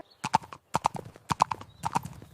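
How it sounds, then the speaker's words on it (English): Hooves of a ridden horse clip-clopping on a farm, loud and close, in uneven clusters of sharp clacks separated by short pauses. "I ride the horse."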